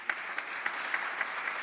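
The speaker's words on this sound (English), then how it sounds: "Please, another round of applause." An audience claps together in sustained applause at a MotoGP team presentation live show, an even, dense patter with a few louder accents, no talk over it.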